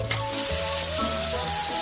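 Spaghetti with calabresa sausage, broccoli and garlic powder sizzling steadily in a hot street-food pan, a dense continuous fry with stirring scrapes, no talk.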